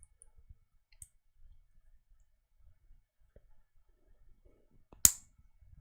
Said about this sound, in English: And these all snap into these little gun barrel sets, or these gun barrel pieces